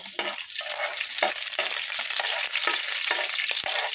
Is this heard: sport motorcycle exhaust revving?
no